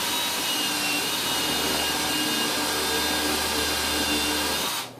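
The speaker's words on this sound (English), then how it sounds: "I have a countersink bit, and I'm going to pre-drill the hole" A drill with a countersink bit pre-drills a hole in wood during a window installation, whirring loud and steady for the whole stretch before cutting off at the end.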